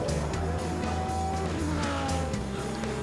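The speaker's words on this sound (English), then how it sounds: "Olivier Lombard got it wrong on the exit of Druids Bend in the number 83 Bentley" A number 83 Bentley race car spins off at the exit of Druids Bend onto the grass, its engine note rising and falling through gear changes amid tyre noise, with other cars and crowd ambience behind.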